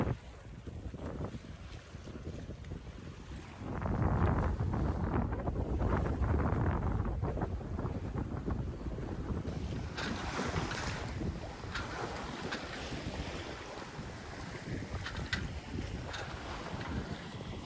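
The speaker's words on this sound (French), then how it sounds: "on fait des vagues blanches le long de la coque du bateau" Water rushes and splashes steadily along a moving sailboat's hull, throwing up white waves, with wind buffeting the microphone throughout; no voices.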